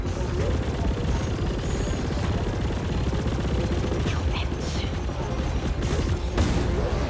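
Rapid gunfire laid down as cover fire in a video game, a dense continuous rattle of shots under a busy, constant wash of battle noise, steady and fairly loud throughout.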